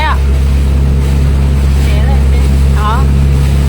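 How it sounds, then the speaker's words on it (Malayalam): A motorboat cruising at speed through mangrove waters, its engine a steady loud drone throughout with water rushing past, while voices talk over it. "ബോട്ട് സ്പീഡിൽ പോണം."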